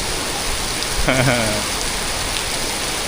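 A downpour lashes Siam Square, Bangkok, its loud, unbroken rush of rain on pavement and awnings heard up close, with a brief voice rising over it for a moment.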